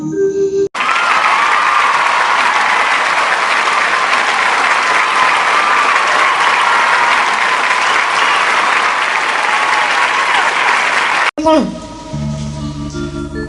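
Loud, sustained audience applause welcoming the Surprayash Orchestra at a temple devotional music event, a dense even clapping that fills about ten seconds, then cuts off abruptly into faint music.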